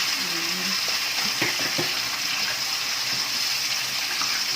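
Whole tilapia frying in hot oil, a steady bright sizzle and crackle running throughout, with a few faint clinks and brief low voices in the background.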